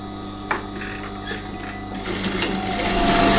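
A sewing machine runs steadily while stitching along the facing of a dress, its mechanical whir speeding up and growing louder toward the end, with brief clicks of the mechanism.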